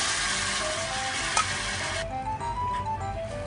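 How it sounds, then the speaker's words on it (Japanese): Premixed seasoning sauce hits a hot pan of Chinese-style teriyaki chicken for a bento, giving a loud burst of sizzling that suddenly drops to a softer bubbling hiss after a couple of seconds. "合わせ調味料をザバッと入れます"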